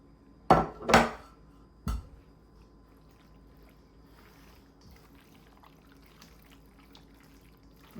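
A utensil scrapes a creamy chicken mixture with gravy, sour cream and seasonings out of a container, giving three sharp clanks and scrapes early on before fading into near quiet.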